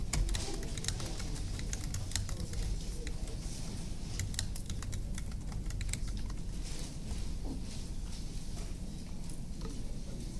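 Continuous typing on a computer keyboard, close and fairly quiet, a dense irregular patter of key clicks running throughout with no voices.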